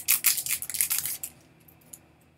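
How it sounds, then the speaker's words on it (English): A quick series of sharp metallic snips and clatters of scissors sounds up close, then a single soft tap as they are put down before quiet. "I'll put those scissors down there out of the way"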